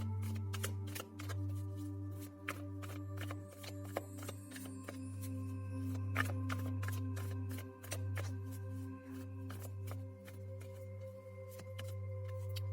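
Tarot cards are shuffled and drawn in a long run of crisp, repeated riffling snaps close to the microphone over a steady low electrical hum.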